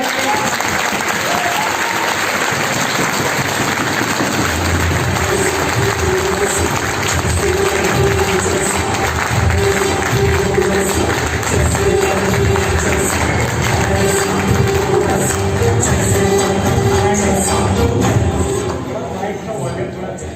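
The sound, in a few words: audience applause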